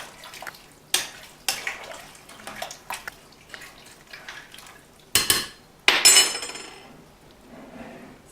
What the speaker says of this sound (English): I'm going to stir this and show you how wonderful this looks right now